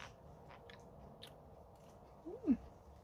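Someone eats a freshly picked tomato in a home garden, with a few soft, close chewing and biting sounds. A brief louder bite comes near the end over quiet outdoor background.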